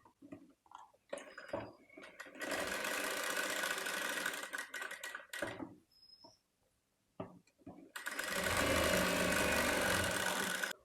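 Sewing machine stitching the neck and armhole of a baby frock, two long bursts of dense steady whirring, close and fairly loud, separated by quieter handling sounds and short pauses.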